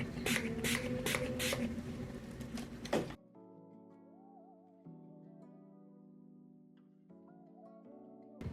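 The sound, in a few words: setting spray sprayed on face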